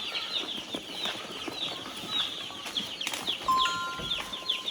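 Newly delivered chicks on a poultry farm peep in a continuous high chatter inside a brooding room, with faint rustling and movement beneath the chirps.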